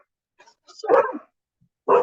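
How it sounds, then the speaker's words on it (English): Dogs barking nearby in a home during an online meeting, a few loud sharp barks in two bursts with a short word spoken between them. "sorry about the dogs."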